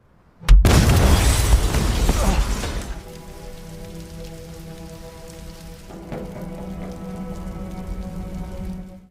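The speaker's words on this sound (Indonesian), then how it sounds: "Mobil tersebut tiba-tiba meledak" A sudden loud car explosion erupts after a brief silence, followed by a few seconds of roaring, crackling debris that fades into a low, steady rumble and hum.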